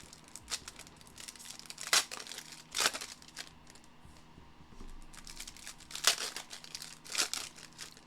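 Foil trading card packs of Cosmic cards are torn and crinkled open close by, with repeated quiet rustles and sharper ripping bursts spread unevenly through the stretch.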